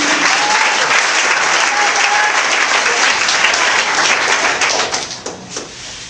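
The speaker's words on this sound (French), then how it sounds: "On acclame le Seigneur Jésus." A church congregation applauding in acclaim, loud dense clapping from a large crowd that holds steady and then fades out near the end.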